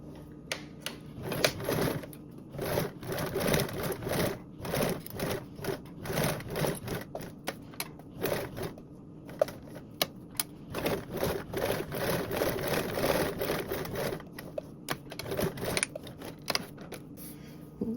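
Short repeated bursts of a sewing machine topstitching around the edge of a blanket backpack at an eighth-inch seam allowance, stop-start runs with brief pauses, close and fairly quiet.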